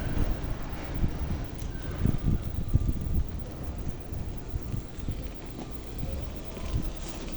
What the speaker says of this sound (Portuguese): Ai, ó o vento.